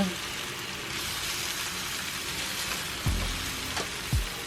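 Potatoes and onions frying in a cast iron skillet, a gentle continuous sizzle with a few brief scrapes or knocks near the end, quiet and close, no words.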